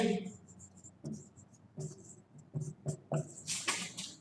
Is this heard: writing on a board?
yes